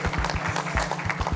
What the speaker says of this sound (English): You can applaud yourselves.